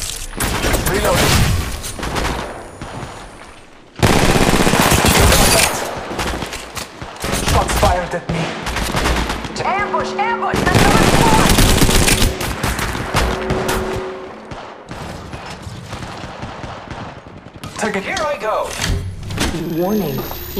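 Loud gunfire in the mobile battle royale game Apex Legends Mobile, heavy repeated bursts and rapid volleys, some sustained for a couple of seconds. In-game voice lines and talk run over the shooting.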